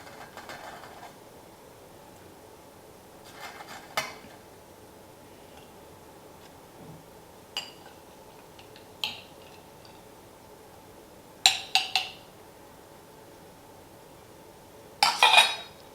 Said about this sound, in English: I'm going to add in some of the larger dry spices, so the cinnamon stick and a couple of pieces of the star anise